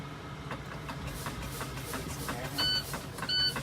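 A truck's low air pressure warning buzzer gives two short high-pitched electronic tones over a steady low engine idle, each a brief beep separated by under a second.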